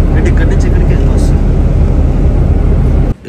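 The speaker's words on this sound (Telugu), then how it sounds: "అది మా ఫ్లైట్. ఇక్కడ మేము ల్యాండింగ్ అనుకుంటాం." A landed airliner on the apron at Chennai airport, its engines giving a loud, steady roar and whine heard close by, continuous until an abrupt drop at the end.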